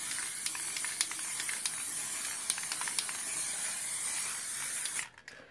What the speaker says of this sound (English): we're going to take our Citadel Chaos Black. We're just going to give a nice liberal coat